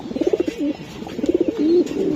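Racing pigeons kept for club races coo loudly and close by in two rhythmic bursts, with pulsing low coos and a rising drawn-out note.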